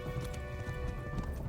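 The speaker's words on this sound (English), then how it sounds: "my horse did go down to a trot for a second" A horse trots in the medieval game Kingdom Come: Deliverance, a quick run of close hoof clip-clops in an even beat over a faint, steady game ambience.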